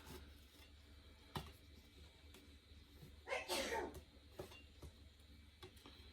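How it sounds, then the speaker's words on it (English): A single muffled sneeze from a woman in another room, standing out briefly against a quiet background. "That was my wife sneezing in the other room."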